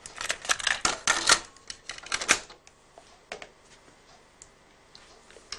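A chrome-type cassette tape is loaded into a cassette deck, making a dense run of sharp plastic clicks and clacks that thin out into a few scattered ticks.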